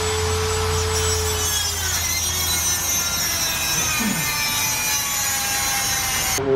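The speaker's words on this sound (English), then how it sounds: "We're almost done cutting this bolt off." A bolt on a V8 engine is being cut off, a loud continuous grinding and rasping that stays steady and close throughout, with no voices.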